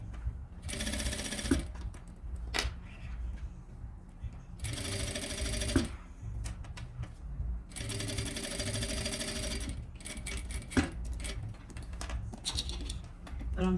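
A sewing machine stitching a luxury pouch with a carabiner runs in three clear bursts of rapid, steady mechanical chatter, with soft handling clicks and faint talk in the pauses.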